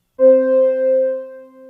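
Ten layered synth tracks in Ableton play the same note with staggered track delays, blending into one thick sustained tone that wavers gently in loudness as the copies overlap. It is close and alone, with no talking.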